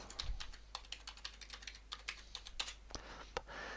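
Keystrokes of a master password typed on a computer keyboard, heard as a quick, close series of crisp clicks with small pauses and no talk.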